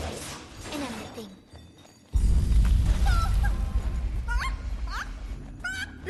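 Chickens clucking and squawking in a coop in the PS4 game Fat Princess Adventures: short, high, bird-like calls pop out repeatedly over a rumbling game background.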